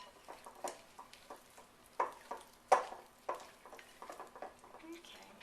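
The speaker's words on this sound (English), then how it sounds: "I'm just going to take the spatula and just kind of fold them in" A spatula folds white chocolate chips into red velvet cookie batter, making soft, intermittent scraping and thudding strokes at close range in a quiet kitchen.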